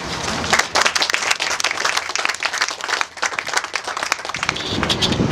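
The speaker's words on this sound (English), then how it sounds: "How about a big round of applause for that?" An outdoor crowd at the dedication of a groundwater recharge basin in Orange County, California, applauds. Dense, steady clapping lasts about five seconds and stays fairly loud before easing slightly near the end.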